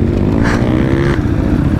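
A motorbike races on a new dirt track, its engine droning loud and close with a short rising rev in the middle before settling back.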